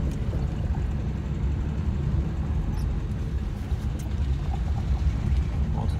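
A Renault Super 5 driving in third gear gives a steady, low engine drone and road rumble from inside the cabin, even and continuous with no talk.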